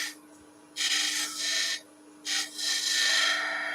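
A woodturning gouge cuts a wooden spindle on a lathe, sounding as a few loud rasping, scraping bursts of shaving that stop and start over a steady motor hum.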